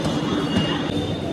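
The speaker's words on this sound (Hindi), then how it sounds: "गाइस मेट्रो चली गई," A metro train pulls out of a station, a steady rumbling roar of rail cars with a faint high whine running through it, heard from close by on the platform.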